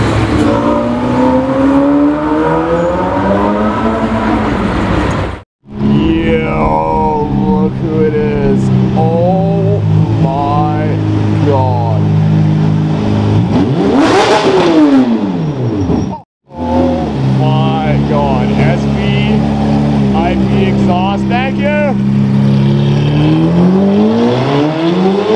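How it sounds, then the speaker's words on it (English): Black Porsche 992 Turbo S and other cars driving past in traffic, engines loud and close with rising and falling revs and a sharp whoosh as one passes, broken by two short gaps. "Black 992 Turbo S."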